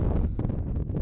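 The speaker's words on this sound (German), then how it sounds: "jetzt kommt der Wind wieder auf" Wind buffeting a bare Røde R26 microphone outdoors with its windscreen removed, a loud, continuous low rumble and roar filling the short moment, no voices.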